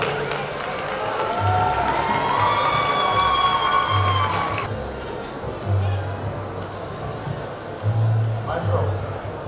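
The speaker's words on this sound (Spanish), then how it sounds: "Un aplauso para nuestro rector, el padre Cancel." A school circus audience cheers and claps for the rector in a lively burst that cuts off abruptly midway, leaving softer crowd noise with scattered shouts.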